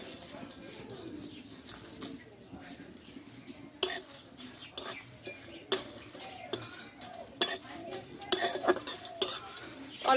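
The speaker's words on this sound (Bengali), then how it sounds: "এবার এখানে ভাজা মশলাটা আমি ভেজে নেবো শুকনো খোলাতে" Whole spices dry-roasting in a hot wok without oil, heard as repeated metal scrapes and clinks of a spatula stirring in the pan with a faint crackle, and a person talking between the strokes.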